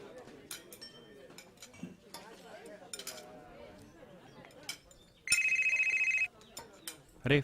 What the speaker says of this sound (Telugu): అరే ఫోన్ వచ్చిందిరా, ఒక్క నిమిషం.